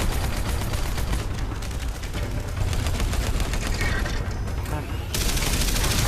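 Gunfire in the PC video game Terminator Salvation: dense, continuous bursts of automatic shots and mechanical clatter go on without a break. The noise is loud and close, with a voice now and then underneath.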